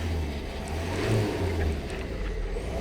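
A car on a city sidewalk, its engine a steady low rumble close by, swelling slightly midway as it moves, with no talk over it.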